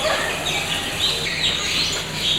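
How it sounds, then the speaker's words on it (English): Birds, including spoonbills, chirp and call repeatedly in a zoo aviary, with overlapping bright tweets over a busy, moderately loud background. "These birds are called spoonbills because of their oddly shaped beaks"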